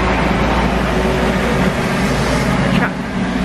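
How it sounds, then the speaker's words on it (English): A semi-truck passing on a quiet residential road, a steady low engine rumble and tyre roar that stays loud throughout before easing slightly near the end. "A semi-truck, which is weird."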